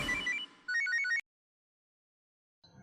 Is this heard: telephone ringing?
yes